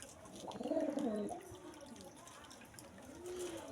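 Pigeons gathering at feed and water give a soft, fairly faint burst of cooing near the start, then quieter murmuring coos trail on at a distance.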